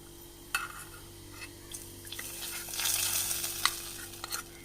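Onions frying in hot ghee in a pan on the stove for a Ramadan iftar drink, a steady soft sizzle broken by repeated scraping stirs of a spoon against the pan.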